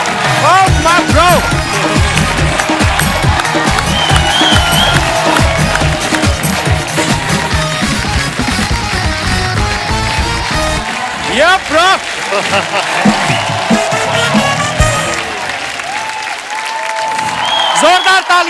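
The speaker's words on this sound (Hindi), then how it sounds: "जोरदार तालियां कार्तिक के लिए" A studio audience claps loudly and continuously to welcome actor Kartik Aaryan onto a comedy talk show, with cheers mixed in and a voice speaking over the applause.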